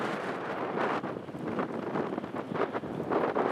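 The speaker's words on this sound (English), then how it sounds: "Man, it is windy." Heavy outdoor wind buffets the microphone in a continuous loud rumbling roar with gusty surges throughout, and no voice is heard.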